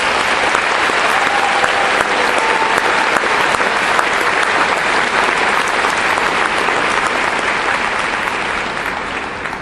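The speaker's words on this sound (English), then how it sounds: "Please give a warm round of applause for Mr. John Boateng." An audience at an evening event claps in sustained, dense applause that stays loud and even for about ten seconds before tapering slightly.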